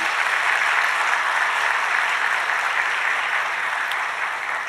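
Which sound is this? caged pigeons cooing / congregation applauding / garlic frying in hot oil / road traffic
congregation applauding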